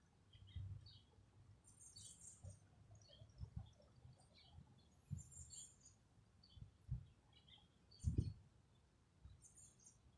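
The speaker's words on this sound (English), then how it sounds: "You hear the birds chirping?" Faint, scattered bird chirps high up in a quiet outdoor setting, with soft low thumps and rustling close by.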